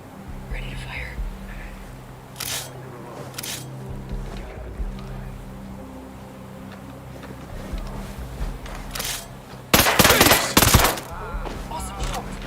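Gunfire in the tactical shooter Ghost Recon Breakpoint during a side mission: a few sharp shots ring out sparsely, then a heavier, louder burst of fire near the end, with quiet whispered voices underneath.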